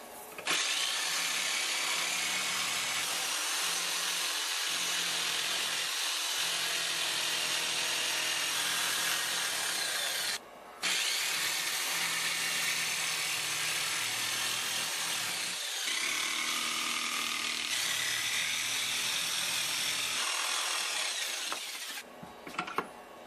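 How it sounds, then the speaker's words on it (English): A jigsaw cuts out wooden parts with a loud, continuous buzzing rasp up close, its pitch shifting with the cut and pausing briefly once midway and near the end. "Just going to cut these parts out with the jigsaw."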